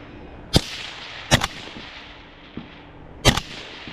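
Sharp gunshots crack out at an outdoor shooting training range, four loud reports in uneven bursts, two of them in a quick double, with a fainter pop between them.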